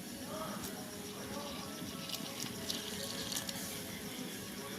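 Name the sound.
pouring water into radish paratha dough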